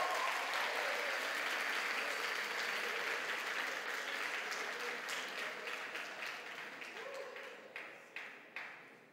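A youth church congregation gives a round of applause, fairly quiet and steady at first, then thinning and tapering off into a few scattered last claps.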